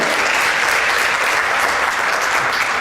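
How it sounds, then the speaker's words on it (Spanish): Loud, dense applause from an audience at a church gathering, a continuous wash of clapping with no pauses. "un aplauso por favor"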